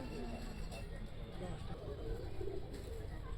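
Pigeons being set loose outdoors, with soft bird calls and fluttering blended into a continuous noisy background where people can be heard talking.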